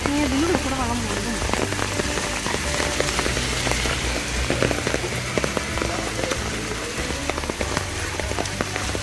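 Heavy rain falling in Trivandrum, a dense steady patter of drops on surfaces with scattered louder splats, constant and close, while people talk faintly underneath.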